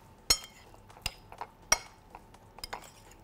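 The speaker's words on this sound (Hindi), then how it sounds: "अब ऐड करने के बाद आपने सिर्फ मसाला जो है पहले अच्छी तरह से इस पर मिक्स करना" Utensil clinking against a bowl while spice masala is mixed into chicken pieces for chicken popcorn, a few sharp metallic taps spaced unevenly, close and fairly quiet with no talking.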